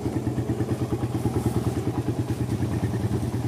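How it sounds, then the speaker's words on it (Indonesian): A motorcycle engine idling steadily at a repair shop in Indonesia, a close, even, fast-pulsing mechanical putter with no talk over it. "Mesinnya kering sama halus, powerful."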